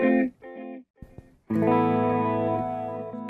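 Electric guitar through a modulated delay on a Line 6 POD Go: a few short choppy notes and a brief gap, then a ringing, shimmering chord that sustains and wobbles with echoes, clear and close with no voices.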